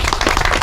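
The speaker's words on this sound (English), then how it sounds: "So if we can give Ronnie Gill a round of applause." A roomful of people at a community gathering claps loudly and steadily in a short, dense burst that stays even from start to finish.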